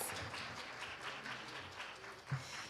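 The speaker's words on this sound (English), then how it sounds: "Give her another round of applause" Faint, distant applause from the audience at an NAACP Saginaw gathering after a presentation by Marsha, a soft, steady patter of clapping with one slightly sharper clap near the end.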